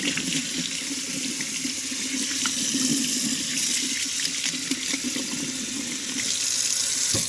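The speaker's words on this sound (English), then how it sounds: "Let's run some cold water." Cold water running from a kitchen faucet into a sink over a garbage disposal drain, a steady, continuous rushing splash that stays close and even throughout, with no voices.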